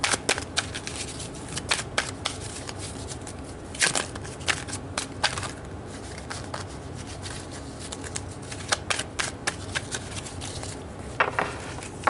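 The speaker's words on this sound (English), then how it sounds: "So let's pull some tarot cards to get more information." A deck of tarot cards is shuffled continuously and close up, giving a dense, crackling riffle with brief sharper snaps scattered throughout.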